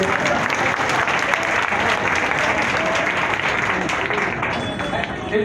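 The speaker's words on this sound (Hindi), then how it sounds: "इनके लिए जोरदार ताली बजाइए" Audience at a gathering applauding loudly, dense sustained clapping for several seconds that thins slightly near the end, with a voice faintly underneath.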